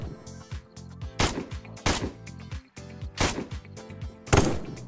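Gunfire from an M40 sniper rifle in the online game Apocalypse Rising 2, several sharp loud shots spaced about a second apart over a busy in-game background, with faint player chatter.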